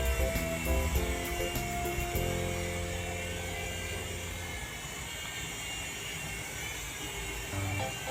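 A QX mini radio-controlled helicopter flying outdoors in wind gives off a steady, fairly loud whirring buzz with a shifting motor tone, continuous throughout with no talking.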